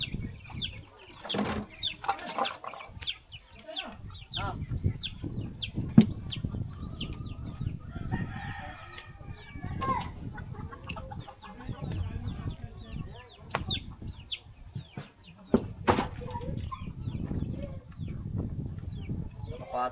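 Chickens, chicks and a rooster clucking and squawking in the background, a busy run of sharp repeated calls with some wing flapping, mixed with someone talking and scattered knocking.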